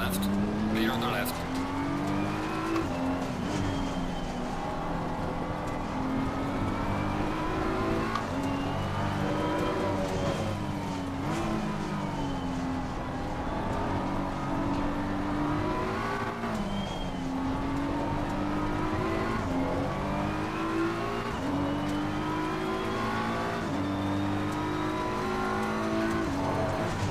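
Race car engines in Assetto Corsa Competizione roar and rev continuously with rising and falling pitch during a lobby race, loud and close, with someone talking over them.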